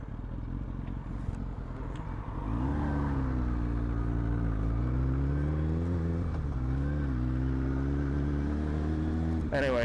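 Engine noise of a passing car swells from about two seconds and holds loud and steady, with a rising and falling harmonic drone as it moves by close to the microphone.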